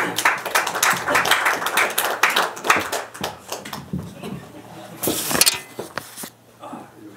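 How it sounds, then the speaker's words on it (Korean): A small audience at a Los Angeles forum claps to welcome a speaker, uneven and close, thinning out with a few isolated claps and a brief louder burst near the end. "박수로 받아주시기 바랍니다"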